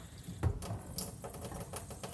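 A kitchen tap with low water pressure sputters and spits in uneven bursts, thin and fairly quiet, with irregular clicks and splashes rather than a steady flow.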